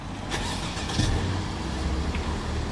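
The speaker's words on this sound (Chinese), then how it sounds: "电脑已经装好了，咱们打车试一下" A Mercedes-Benz car is started for a test drive after an ABS module repair, giving a steady mid-level engine rumble that runs the whole time, with a brief louder surge near the start and no talking.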